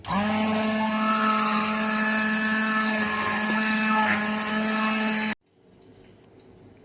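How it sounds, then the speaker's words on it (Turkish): A blender purees cooked pumpkin at a loud, steady high whine for about five seconds, then switches off abruptly, leaving quiet room noise. "Bal kabaklarımızı ezdikten sonra daha pürüzsüz bir kıvam alması için blenderdan geçiriyoruz"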